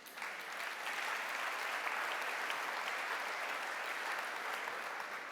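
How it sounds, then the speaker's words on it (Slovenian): A hall audience at a business chamber anniversary gala applauds in a broad, even wash of clapping, sustained and fairly distant without letup. "Dajte si še enkrat zaploskati."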